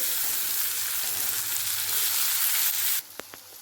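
Chopped tomato fries in a pan for a bottle-gourd curry, a loud, close, steady sizzle that cuts off abruptly near the end, followed by a few sharp utensil taps.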